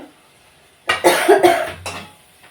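A single burst of harsh coughing, close and loud, after a quiet moment, trailing off into silence.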